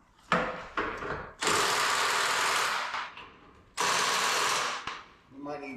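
A power tool works at the body bolts on an old Chevrolet Apache truck, firing two long, loud buzzing bursts close by, with short knocks and mechanical clatter before and between them.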